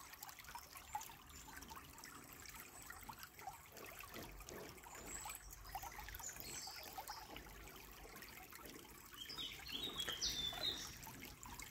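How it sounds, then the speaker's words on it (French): A gentle river flows in a soft, steady trickle, quiet and continuous throughout, with a few faint high chirps in the background. "les bruits de la rivière, pour vous apaiser peut-être"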